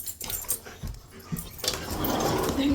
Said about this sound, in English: first I'm going to let these dogs out